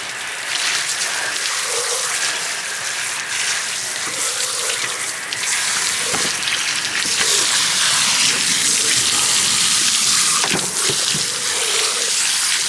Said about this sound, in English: Rinse it out until the water runs mostly clear.